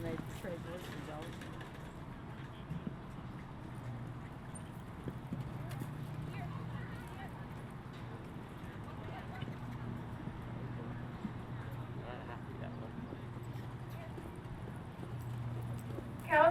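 Horse hooves clip-clop steadily on an arena surface during a summer speed series barrel run, moderately close, with a low hum and announcer chatter running underneath throughout.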